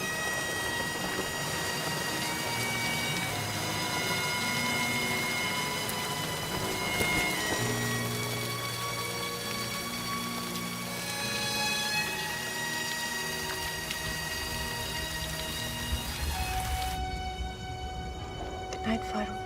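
Rain falling steadily in a continuous wash, with possible distant thunder and music over it.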